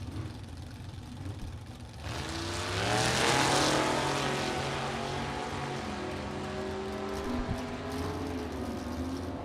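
Vintage Willys and Plymouth gasser drag cars launch off the line together, engines surging from a low idle into a loud, rising roar that fades slightly as they pull away down the strip.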